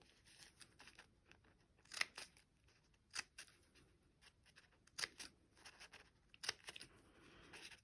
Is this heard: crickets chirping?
no